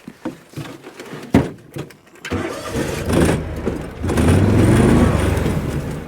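A four-wheel-drive vehicle out at a winter food plot starts up and its engine rises into a steady, loud revving drone, after a few sharp knocks and clunks at the start.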